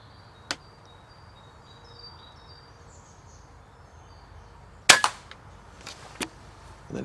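A single sharp air rifle crack during pest control stands out against a quiet outdoor background, followed by a few fainter ticks and knocks, with another faint click earlier.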